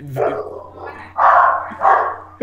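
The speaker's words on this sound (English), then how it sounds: "there's a dog" A dog barks in a few sharp, loud bursts at close range, with no other voices over it.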